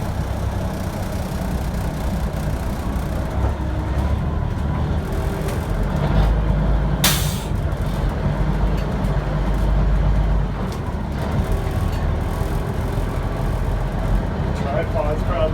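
Peterbilt 359 truck, an older restored rig, driving with a steady low engine rumble and road noise throughout, a brief louder swell midway and a short sharp rattle or knock near the middle.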